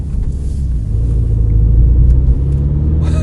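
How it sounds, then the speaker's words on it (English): A 2018 MINI Clubman JCW with a sport exhaust and 231 horsepower pulls hard, its engine and exhaust building into a loud, deep, continuous rumble heard close up with no talking. "It also sounds nice. I mean, the sport exhaust, beautiful."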